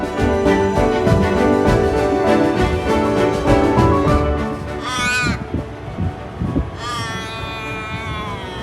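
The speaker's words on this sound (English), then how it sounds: "communicating with the magpies" Magpies calling along the Nullarbor Highway: harsh, caw-like calls with warbling, rising cries, fairly close, loudest in two bursts near the middle and end over steady outdoor background noise.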